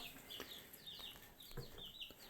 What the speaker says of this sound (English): these little baby chicks are probably about, I don't know, 3 weeks old